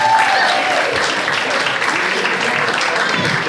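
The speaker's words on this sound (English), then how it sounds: "Put your hands together for Jag and Krishnan." Comedy show audience at a comedy competition final applauding a comedian, loud dense clapping from a large crowd, sustained and evenly spread with faint cheering mixed in.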